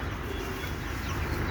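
Young broiler chickens about 29 days old clucking and cheeping together in a shed, a dense continuous chorus heard close, with no talk over it.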